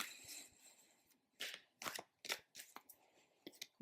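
A deck of oracle cards being shuffled by hand in quiet, with soft papery riffles and slides in irregular short bursts, heard close and faint.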